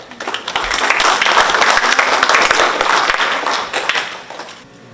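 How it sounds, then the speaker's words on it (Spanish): An indoor audience at a Water Day conference applauds with warm, steady clapping that swells within a second, holds for several seconds, then tapers off gradually. "Recibamos con caluroso aplauso."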